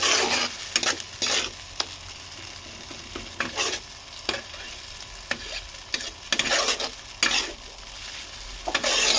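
A spice paste of onion, ginger, cumin, chili and tomato with nigella seeds sizzles in oil. Repeated bursts of scraping stirring interrupt a low, continuous fry, with no voices.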